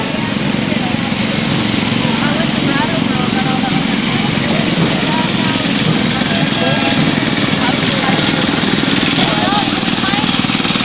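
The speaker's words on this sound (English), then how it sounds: "I had a lawnmower just like that one." A small lawn mower engine runs steadily amid a Loyalty Day parade, its engine drone mixed into a dense, constant wash of outdoor crowd and street noise that holds loud and unbroken throughout.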